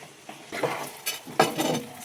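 A spoon clinks and scrapes against dishes while beef gravy and rice are served, a few light, close metallic taps and stirring sounds at low volume.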